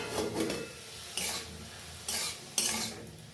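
Cauliflower pieces fry in a pan and get stirred now and then: a steady sizzle with three brief scraping stir bursts spread across it, close and moderately loud.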